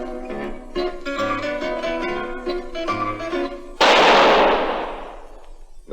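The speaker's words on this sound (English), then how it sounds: "That was the shot that killed Harry Lime." A single sharp gunshot rings out in a radio drama, close and loud, then decays over a couple of seconds. Plucked zither-like music plays before it, and there is no talk.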